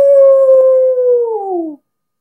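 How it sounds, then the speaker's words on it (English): A dog howls once in a long, loud, close wail that holds steady before sliding downward and stopping abruptly, with nothing else heard around it. "Then behind them, they heard a wild howling."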